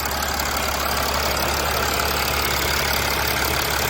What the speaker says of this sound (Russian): Вот так должен работать исправный мотор.